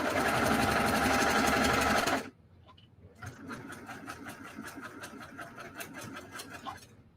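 Sewing machine stitching a quilt block seam over nested seams, running loud and steady for about two seconds, then stopping abruptly, followed by quieter rhythmic clicking and handling sounds.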